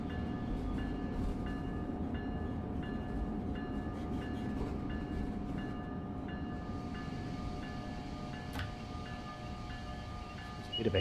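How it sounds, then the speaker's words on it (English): Simulated passenger train in Train Sim World 4 on the New York–Trenton line rumbling under a heavy brake application, a steady low roar with faint squealing tones and an occasional click, continuous and fairly close. "Bit of a heavy brake application there."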